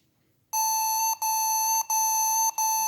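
A radio detector's alarm, triggered by a nearby router signal, sounds a loud, piercing electronic beep in rapid repeated pulses with tiny gaps, starting abruptly after a moment of near silence.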